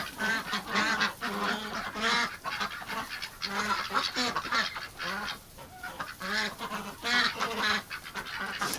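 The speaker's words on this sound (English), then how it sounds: "the ducks let you know that they like it" Ducks and geese crowd a barn with fresh straw, honking and quacking loudly and continuously in overlapping bursts close to the microphone.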